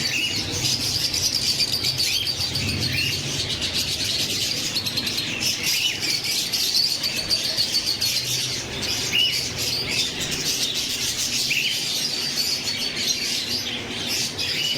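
Caged parrots at a bird market chirp and squawk in a dense, continuous chorus, shrill calls overlapping throughout at moderate loudness with a faint insect-like buzz beneath, and no talking.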